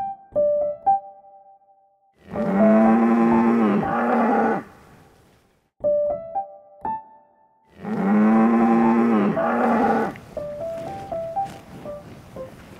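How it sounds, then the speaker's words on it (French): A Parthenaise cow, an old working breed from the Gâtine region near Parthenay, gives two long, loud, deep moos a few seconds apart, with tones and clicks between them. "c'est une vache qui a été utilisée à l'époque pour travailler dans les champs"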